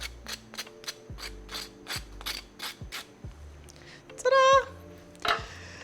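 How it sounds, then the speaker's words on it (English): A butter knife scrapes burnt toast over a sink in about a dozen steady, rasping strokes, close and crisp, then a brief squeaky vocal noise cuts in near the end. "just scrape it with a butter knife."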